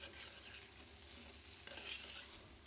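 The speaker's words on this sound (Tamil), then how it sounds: "இந்த உப்பையும் போட்டு நல்லா வந்து கிளறி விட்டுறணும்." Vegetables with salt and chili powder are being stirred in oil in a pan, a faint, continuous low sizzle with soft scraping strokes from the spoon.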